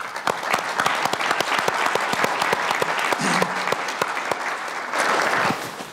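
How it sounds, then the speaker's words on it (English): An audience applauds continuously, a dense patter of many hands clapping at an even level for several seconds. "So big, big round of applause for Joe Magliochetti"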